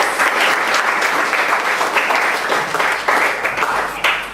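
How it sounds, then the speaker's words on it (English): An audience at an employability debate gives a round of applause, a brisk, steady burst of many hands clapping for about four seconds, fairly close and loud with no talking over it. "So if you give a clap,"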